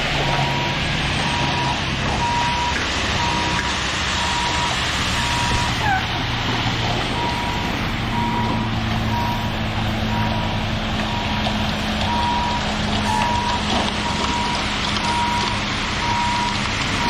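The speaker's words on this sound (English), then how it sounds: "the cleanup truck has arrived after an hour and 15 minutes" A concrete cleanup truck reverses on a site, its evenly spaced electronic beeps repeating throughout over a loud engine rumble and wind.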